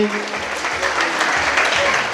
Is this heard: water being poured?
no